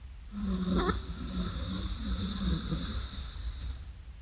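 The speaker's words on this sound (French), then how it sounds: "J'inspire de la droite." Steady airy nasal inhalation through the right nostril during alternate nostril pranayama breathing in a yoga class, a long continuous hiss lasting several seconds with a brief low vocal murmur near the start.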